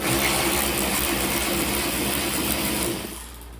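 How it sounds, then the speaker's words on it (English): A power tool whirs continuously while backing a 7mm bolt out of a car's fender liner, a loud close buzzing motor that tapers off in the final half second. "I'm gonna go ahead and take this 7mm bolt out"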